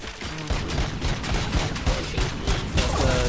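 Rapid gunfire from the RoboCop Rogue City video game, a dense fusillade of shots with heavy low booms, loud and continuous throughout without talk.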